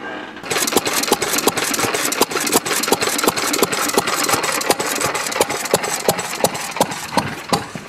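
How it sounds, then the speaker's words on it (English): A small engine idles with a steady, rapid knocking beat, close and fairly loud, running evenly on its own. "I figured I'd run the engine a little bit"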